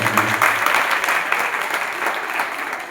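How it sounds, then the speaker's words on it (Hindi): An audience at a morning religious discourse claps in honour of children, producing a loud, dense burst of applause that continues throughout and tapers slightly toward the end. "पहले तो बच्चों के सम्मान में तालियां बजाना चाहिए"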